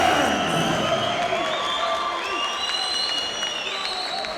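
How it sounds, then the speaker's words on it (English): Fight-night crowd at a BAMMA mixed martial arts event roaring for local favourite Karl Etherington, a sustained loud wash of cheers and applause with an announcer's voice ringing over it. "So you heard the response of the crowd to the local favourite, huge roar"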